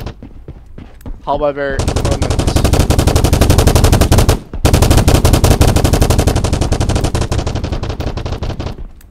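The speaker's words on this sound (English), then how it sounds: "the moment the gunfire gets closer to you, it gets higher volume and then the muffler goes away" Video game machine gun fire, a loud rapid continuous burst close by, briefly cutting out mid-stream before resuming, after a short spoken word and a few scattered shots.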